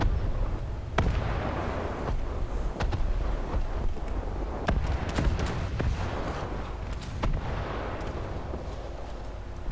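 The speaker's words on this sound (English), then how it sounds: "Let's just pretend it is and shoot it." Naval gunfire from warships in the War Thunder video game: loud booming cannon shots land at irregular intervals over a dense rumble of battle, with several sharp cracks standing out above the constant low roar.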